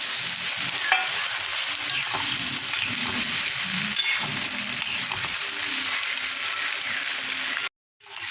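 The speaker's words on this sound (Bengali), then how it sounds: "পোস্তর আলুটা ভাজা হয়ে গেছে কালো জিরে দিয়ে শুকনো লঙ্কা দিয়ে ভাজা ভাজা হয়ে গেছে এবার আমি পোস্তটা দিয়ে দিচ্ছি" Potatoes fry steadily in a pan with nigella seeds and dried chillies as poppy seed paste goes in, a continuous close sizzle with stirring scrapes throughout, broken by a brief silence near the end.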